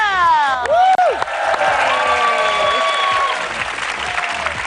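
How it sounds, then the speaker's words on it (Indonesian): A television studio audience breaks into steady, loud applause with cheering and whoops, and a voice speaks briefly over the clapping. "Tepuk tangan lagi dong."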